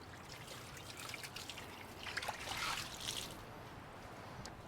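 Water is poured onto Milwaukee and Toughbuilt StackTech tool cases, making a faint, steady trickle and splash that swells briefly midway.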